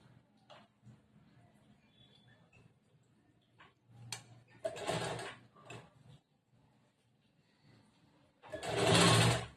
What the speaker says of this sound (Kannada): ಇಲ್ಲಿಂದ ಸ್ಟಿಚಿಂಗ್ ಸ್ಟಾರ್ಟ್ ಮಾಡ್ತೀನಿ, ಹೊಲಿಲಿಕ್ಕೆ ಸ್ಟಾರ್ಟ್ ಮಾಡ್ತೀನಿ